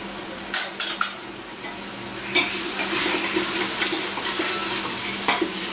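Six green chillies go into a pan of browned onions for a seeraga samba country chicken biryani. Clattering spoon knocks come first, then a steady close sizzle with scraping stirs.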